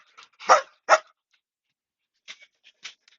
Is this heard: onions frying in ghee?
no